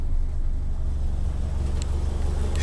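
A 1969 International Scout 800 4x4 with a four-speed runs right after starting, its engine holding a loud, steady low rumble close by with no talk over it.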